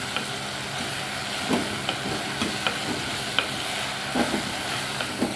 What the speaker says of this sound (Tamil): நல்லா சேர்த்து எல்லாத்தையும் ஒன்றா வதக்கி விட்டுருலாம்